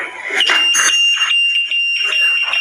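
An anti-theft alarm on an automatic scooter sounds loudly in repeated, pulsing bursts of warbling tones, close by and without talk.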